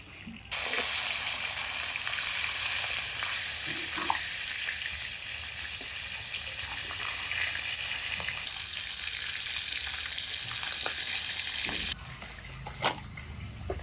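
Katla fish pieces fry in mustard oil in a kadai, giving a loud, dense, unbroken sizzle that holds steady for more than ten seconds before dropping to a lighter crackle. A few faint clinks sound in the kitchen.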